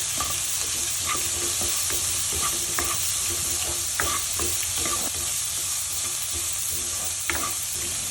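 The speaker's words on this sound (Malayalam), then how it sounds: "കുറച്ച് ഉപ്പും കൂടി ഇട്ടിട്ട് നമുക്ക് നന്നായിട്ട് വഴറ്റാം കേട്ടോ." Beans and carrots sautéing with salt in a pan while vegetable upma is being prepared: a steady close sizzle with the scrape and clack of stirring recurring throughout, and no talk.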